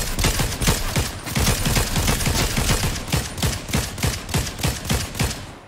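Rapid video game gunfire fills the scene, with dense overlapping bursts of shots that give way to a steady, evenly spaced rhythm of single loud reports near the end, with no voices heard.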